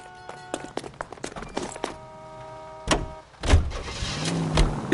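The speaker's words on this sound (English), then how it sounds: "Get in and drive." Car sounds from the video game L.A. Noire, with door and window thunks and clicks, then an engine starting and a car pulling away into a steady, close engine drone.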